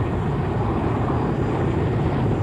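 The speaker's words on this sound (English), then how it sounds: "the two helicopters earmarked for the slithering operation take off" Two military helicopters of the Air Force lift off for a slithering operation, a loud, steady low-pitched engine and rotor roar with no talk over it.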